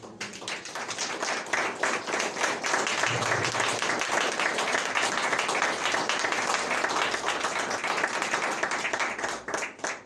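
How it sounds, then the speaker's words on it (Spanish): Dense, continuous applause from a church congregation during a Sunday service, loud and sustained for about ten seconds with no speech over it. "¿Cuántos le pueden dar un aplauso, Señor?"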